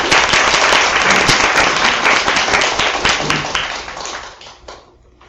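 An audience at a Korean public lecture claps loudly to welcome the speaker, a dense burst of many hands that holds strong and then thins and fades toward the end.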